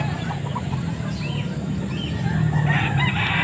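A stag gamecock crows loudly and nearby in a drawn-out call, with faint murmur and other fowl sounds behind it.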